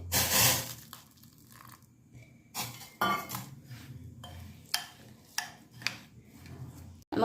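A spoon stirs semolina added bit by bit into hot water in a pot, giving scattered metallic scrapes and clinks against the vessel with irregular pauses, close and moderately loud.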